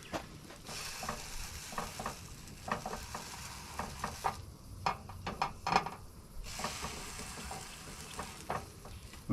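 Rissoles sizzle on a small Camp Master camping cooker outdoors, a close, steady frying hiss dotted with frequent crackles and pops.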